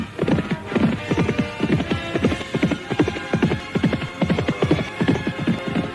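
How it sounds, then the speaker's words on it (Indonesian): Hooves of two horses clatter in a steady galloping clip-clop, moving away from a hermitage at the foot of a mountain, loud and rhythmic throughout with no voices over them. "Maka 2 ekor kuda berderap meninggalkan padepokan Dandang Kandaga di kaki Gunung Gangsi"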